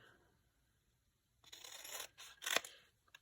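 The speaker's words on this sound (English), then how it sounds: "That's a bit of a strip there. I'm going to cut it off." Scissors snip a strip off a paper address label during crafting, heard as a few close, crisp cutting crunches after a quiet pause, ending with a small click.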